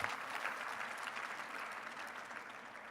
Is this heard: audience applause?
yes